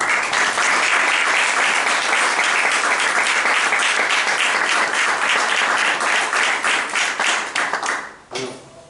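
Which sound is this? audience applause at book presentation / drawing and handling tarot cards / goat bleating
audience applause at book presentation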